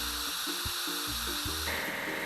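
Foam sprayed onto a timber loader in a car wash game, a steady hissing spray running throughout with a few short tonal game chimes layered over it.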